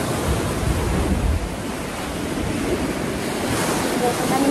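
Loud, continuous crashing surf of the sea during a strong southwest monsoon, with heavy wind rumble buffeting the microphone throughout and no clear breaks between waves.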